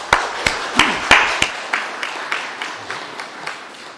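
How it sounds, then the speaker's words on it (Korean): A church congregation claps in a steady rhythm of sharp, separate claps that start strong and gradually soften, with no voices over them. "박수하겠습니다."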